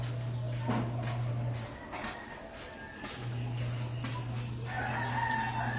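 A rooster crows twice at close range, separated by a pause, with faint clucking and bird chatter in the background.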